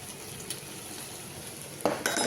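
Chili powder, ginger, garlic and cumin frying in a pan of oil for a coconut-milk mutton curry, giving a steady soft sizzle throughout, with a couple of louder scraping stirs near the end.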